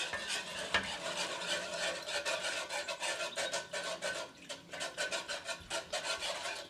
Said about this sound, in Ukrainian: І вінчиком е, ви розмішуєте